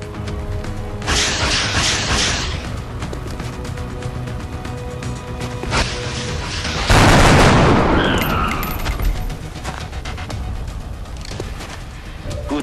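Gunfire in the video game XCOM: Enemy Unknown, a loud burst of shots standing out over a steady background of game music and ambience, fading into a lingering tail.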